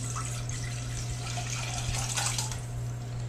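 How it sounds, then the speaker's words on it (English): Liquid pours steadily into a medium saucepan in a home kitchen, a soft continuous splashing trickle at close range over a low constant hum, with no talking. "So now that we have our 2½ cups of liquid, you pour that into a medium saucepan."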